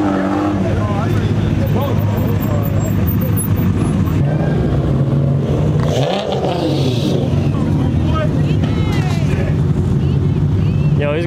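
A loud car engine revs hard in repeated two-step bursts at a car meet, popping and crackling, with crowd chatter and shouting underneath throughout.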